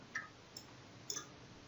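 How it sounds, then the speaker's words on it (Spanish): Computer mouse clicks while working in LTspice circuit simulation software: three faint, sharp clicks spaced out over a quiet room background. "Damos clic"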